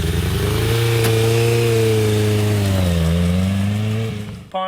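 A Honda Odyssey fitted with a GSX600 engine runs with a misfire, a close, loud, uneven buzzing engine note that rises, dips and falls before cutting out near the end.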